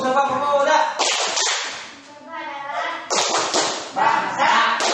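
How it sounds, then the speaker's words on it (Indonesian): A school class does the Sumpah Pemuda clap chant in Indonesia, with rhythmic bursts of hand clapping between chanted lines and a teacher's voice, fairly close and loud. "Kita tepuk Sumpah Pemuda lagi ya."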